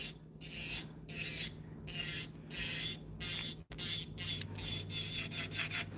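An electric nail drill at 9,000 RPM files down bulk on an acrylic nail, giving close, quiet rhythmic rasping strokes in short repeated bursts over a low motor hum.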